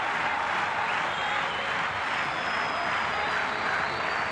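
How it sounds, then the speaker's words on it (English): A football stadium crowd at an Argentina versus Bolivia match roars in a steady, dense wash of cheering and applause, loud and continuous without a break. "And the crowd is now starting to get into this one."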